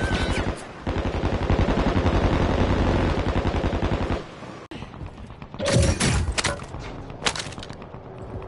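Rapid automatic gunfire from a video game played on PS4 rattles loudly for about four seconds, followed by a few scattered shots and thuds.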